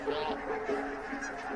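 Geese honk continuously in a noisy chorus, a flock calling over one another at close to moderate distance.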